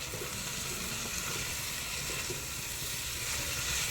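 Spinach and coriander greens being stirred in a pan, a continuous sizzle and frying hiss with soft scraping of the stirring, steady and fairly close.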